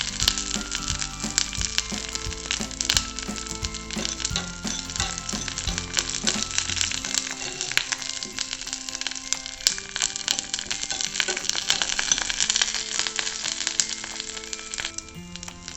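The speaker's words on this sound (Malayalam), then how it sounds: "ഇനി മുളകും കറിവേപ്പിലെല്ലാം കുറച്ച് വാടുന്നവരെ ഇളക്കി കൊടുത്ത് നമുക്ക് അതിലേക്ക് ഒഴിച്ചു കൊടുക്കാം." Chili and curry leaves sizzle steadily in hot oil in a pan, with close, continuous frying crackle and intermittent scraping and clinking as they are stirred throughout.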